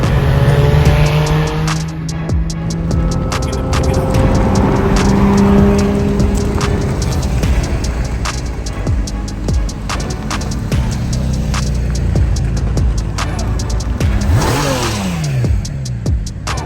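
A Porsche 992 GT3 on a road drives past and accelerates. The engine revs rise and fall with gear changes, a loud, close engine note runs throughout, and a sweeping pass-by sound comes near the end.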